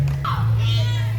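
A single short meow from a female cat rises and falls over a steady low hum.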